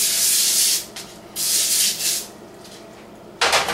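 Cornbread batter is stirred in a bowl with rough, scraping strokes, coming in loud bursts with short pauses between them, close and with no talking.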